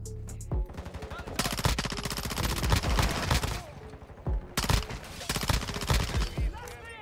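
Rapid bursts of PDSW 528 submachine gun fire in Modern Warfare 2, close and loud, in two long stretches of fast staccato shots separated by a quieter gap.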